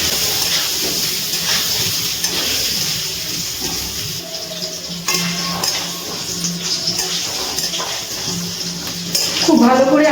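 Potatoes frying in a pan over a high gas flame, a steady loud sizzle and hiss with occasional clinks of utensils against the pan, continuous throughout.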